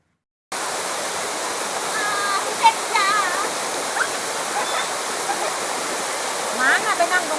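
The Sam Lan waterfall in Saraburi pours steadily over rocks, a loud, unbroken rushing wash with faint voices and small splashes heard over it.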